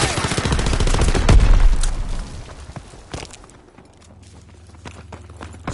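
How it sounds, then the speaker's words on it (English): Mortar rounds firing in a PS4 video game, a dense burst of heavy thuds and rapid gunfire at the start that fades into scattered distant shots and a low hum. "sending mortar rounds"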